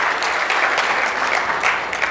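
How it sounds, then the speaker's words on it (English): Dense, steady applause from an audience at a talk, a continuous wash of many hands clapping close together with no voices over it. "give it a round of applause."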